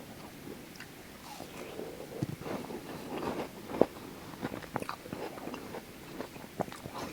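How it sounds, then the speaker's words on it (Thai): Juicy fruit is bitten and chewed up close, with soft wet crunches and irregular chewing sounds over a quiet background. "ผลไม้ฉ่ำๆครับเพื่อนๆ มาทานด้วยกันเนาะ"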